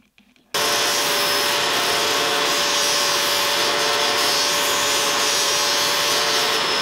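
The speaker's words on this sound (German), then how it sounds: "Jetzt gehen wir mal an den Tellerschleifer und schleifen uns das hier ein bisschen schön." A disc sander grinds small wooden boards to shape rounded corners, a steady loud whirring roar with a faint tonal hum that starts abruptly after a brief quiet moment and runs on without a break.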